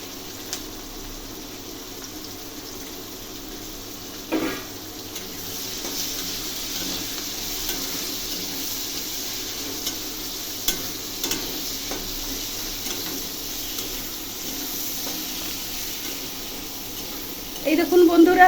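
Chopped onion sizzles and is stirred in hot oil tempered with cinnamon, cardamom and bay leaf, a soft steady frying hiss with occasional scraping clinks of the spoon, growing louder at the end.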